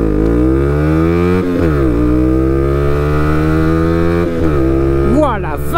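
A motorcycle runs a hard 0 to 80 acceleration test. The engine is loud and close, its pitch climbing steeply through each gear with brief dips at the shifts, and it keeps revving at the end.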